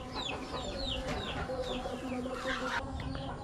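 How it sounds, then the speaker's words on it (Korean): Chickens at a poultry farm on Lombok cluck and chirp continuously, with overlapping calls from many birds under a steady dense farmyard din. "여기 양계장 같은 건가 보다."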